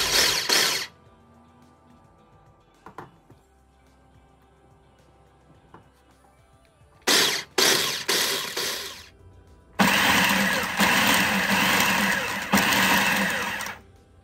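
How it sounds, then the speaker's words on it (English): A food processor chops spinach leaves in short bursts: a brief whir at the start, a few quick pulses midway, then a longer loud continuous run near the end, with quiet gaps between. "I am using a food processor to chop the leaves"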